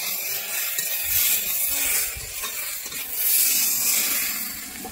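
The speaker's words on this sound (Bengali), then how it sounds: "টমেটোটা দিয়ে আমি ভালোভাবে নেড়ে নিচ্ছি।" Chopped tomato being stirred into a thin Bengali fish curry in a pan: a steady soft scraping and rubbing of the spoon over a constant sizzling hiss, close and without voices.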